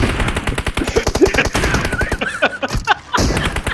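Rapid automatic gunfire in the mobile battle royale game PUBG Mobile, a loud, dense string of bursts running nearly the whole time with a brief pause near the end.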